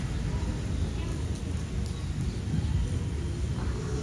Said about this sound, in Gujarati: જો વરસાદ ચાલુ થઈ ગયો છે